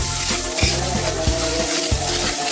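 Spice paste and onions frying in a pan, a steady close sizzle with occasional stirring scrapes and soft clinks breaking the hiss.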